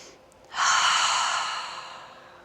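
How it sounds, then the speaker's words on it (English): A single deep cleansing breath taken during a yoga session, heard as a long, loud, close exhale that follows a brief quiet inhale and fades gradually. "Give yourself another cleansing breath."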